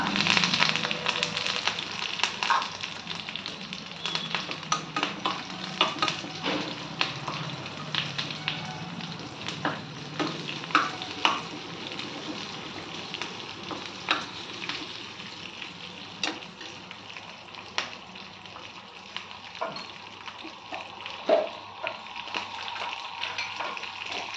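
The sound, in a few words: frying tempering of crushed garlic, curry leaves, onion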